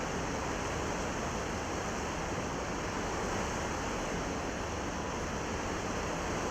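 Waterfall in the video game The Talos Principle, a steady, dense rushing roar of falling water that fills the whole stretch evenly without pauses or breaks.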